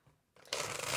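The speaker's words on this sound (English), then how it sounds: "Got 2 more shuffles" Tarot cards being shuffled by hand: a short riffling burst that grows louder and continues as a dense rustle.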